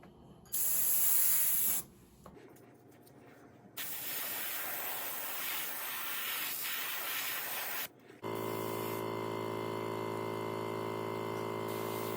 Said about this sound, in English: so I'll probably just spray a little bit of this right on the top